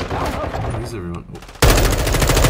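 Rapid automatic gunfire in Call of Duty Modern Warfare II, with a quieter stretch of battle noise and a voice giving way to a sudden loud, sustained burst of close shots.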